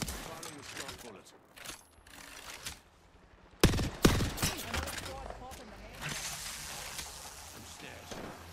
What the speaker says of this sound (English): Firing a strong bullet.